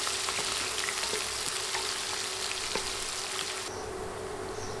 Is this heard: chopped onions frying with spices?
yes